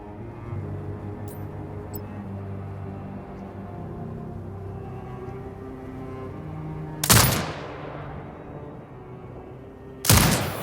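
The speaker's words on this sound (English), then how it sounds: "Exit binocular mode and command the turret to fire." A mounted turret in the shooter game Sniper Ghost Warrior Contracts 2 fires two loud, sharp blasts about three seconds apart, each with a short rumbling tail, over a low ambient hum.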